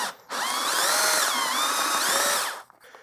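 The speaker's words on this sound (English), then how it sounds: "this part was sticking to the end of the drill bit and then just spinning in there and melting" A power drill bit whines steadily as it spins and melts into a hard plastic toy part, its pitch dipping twice under load before it stops, close and alone.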